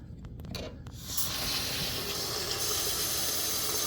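A few light clicks and knocks, then tap water starts running steadily and loudly, a continuous broad rush close by with no talking.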